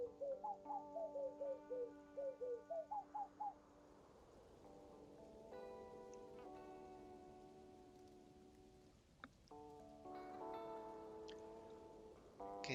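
Birds chirp in a cozy video game, with a run of short, repeated melodic calls, then gentler chirps over soft rain-like ambience.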